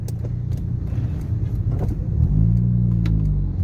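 A car engine gets a throttle blip while downshifting from third to second gear, a low rumbling idle that rises into a short, steady rev toward the end, heard from inside the cabin.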